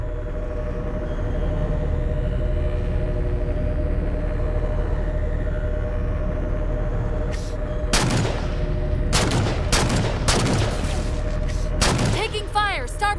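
Repeated sharp gunfire bursts in Halo 4 crack out loudly from about eight seconds, several shots in quick clusters over a steady low engine-like drone, with a rising whine near the end.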